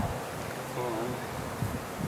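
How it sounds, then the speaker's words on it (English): Honey bees swarm in the air during a package install into a hive, a faint continuous buzzing hum close by, with low rustling and handling noises underneath. "every time when you do a package install, you get a lot of bees in the air like this"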